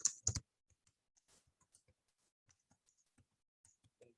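C# code being typed on a computer keyboard, heard as a quick burst of louder key clicks and then sparse, faint taps scattered across a quiet room.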